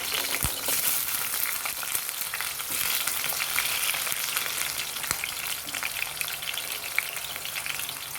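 Three medium tomatoes, cut into squares, sizzle steadily in homemade coconut oil, a dense, even crackle of frying that carries on without a break, close and moderately loud.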